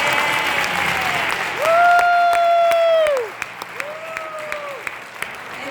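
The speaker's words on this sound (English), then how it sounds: "Can we give them a round of applause?" An audience applauds the participants of a school Black History Month living statues event, a burst of clapping followed by long drawn-out whooping cheers that rise and fall over the fading applause.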